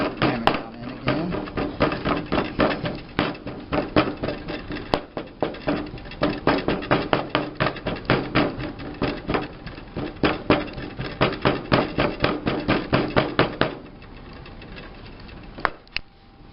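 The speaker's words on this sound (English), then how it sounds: "Here again, we'll fill it up over the top of the flask. Ram it down in again." Foundry sand is rammed down into a casting flask with a rapid series of dull, regular thuds, dozens of close strikes for about fourteen seconds before they stop.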